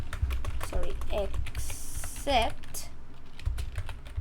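Typing on a computer keyboard while writing Python code, a quick run of light clicking keystrokes, close up and mixed with a person talking.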